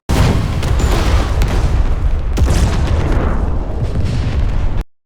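An explosion in the film War Machine: a loud, sustained explosive roar with rumbling blasts fills the space, then cuts off abruptly near the end.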